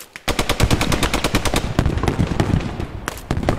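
Grease Gun submachine gun fired in Post Scriptum, a loud close burst of rapid, evenly spaced shots running almost the whole time, with a short break near the end before a few more rounds.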